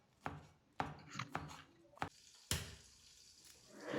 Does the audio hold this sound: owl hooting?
no